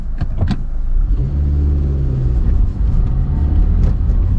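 A Honda Civic fitted with a short-throw shifter drives at night, its mid-pitched engine droning and rising as it accelerates, close and steady throughout.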